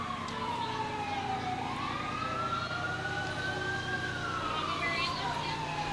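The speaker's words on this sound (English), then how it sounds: "we can't compete with the sirens anyway" Fire truck and emergency vehicle sirens wail loudly throughout a nighttime Christmas parade, one rising and falling tone sweeping past close by over a steady rumble of engines and crowd noise.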